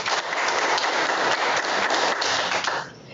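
Applause for panelists at a live education event, a continuous dense patter of many hands clapping for about three seconds, then trailing off quickly.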